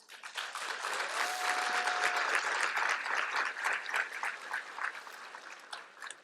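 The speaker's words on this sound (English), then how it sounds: "Applause to you." A keynote audience claps for several seconds, a dense but fairly soft patter of many hands that swells early and then slowly tapers off, heard from a distance with a brief faint tone near the start.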